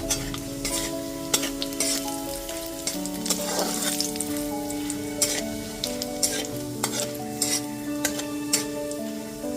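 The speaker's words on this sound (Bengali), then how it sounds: "ফোড়নটা হালকা করে ভেজে নেব।" Whole spices (cardamom, cinnamon and cloves) fry over a low flame as tempering for a Bengali mutton and potato curry. A steady close sizzle carries sharp metallic clinks and scrapes of stirring in the pan, with no voices.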